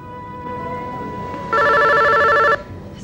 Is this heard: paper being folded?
no